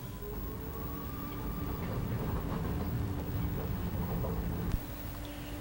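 A steady low rumble and hum of a commuter train departing a station on Saar regional lines in a train simulator game, with a faint tonal whine and a brief click near the end.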